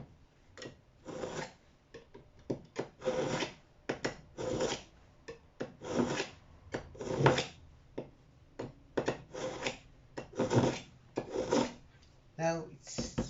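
Kitchen knife stroked repeatedly against a sharpening surface, giving rhythmic rasping scrapes in a steady back-and-forth pattern, close and fairly loud, with brief pauses between strokes.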